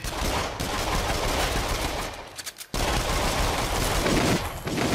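Rapid gunfire in the VR horror shooter Until Dawn: Rush of Blood, dense bursts of shots filling the clip with a brief lull near the middle before the firing resumes, loud and close.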